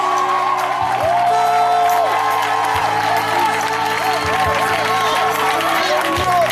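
A church congregation cheers and applauds at a Sunday service, a steady mass of clapping and voices with whoops, continuous and fairly loud, while a voice speaks over it.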